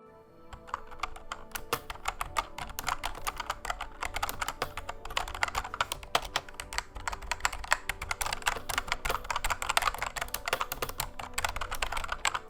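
Steady, rapid typing on a Thermaltake Challenger Edge Pro RGB membrane keyboard, soft muffled keystrokes in a continuous close-up rhythm with no talking.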